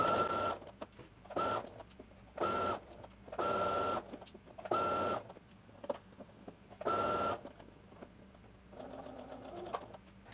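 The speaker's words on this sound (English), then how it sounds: "I'm going to sew all the way to the dot" A sewing machine stitches a seam on a Simplicity 9888 button placket dress in several short bursts of rapid, steady whirring separated by brief pauses, close and clear with no talking.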